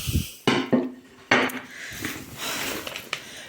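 Plates and dishes clink and knock together in a few sharp, close impacts at a New Year's table spread with salads, olives and cake, with quieter rattling between the louder hits.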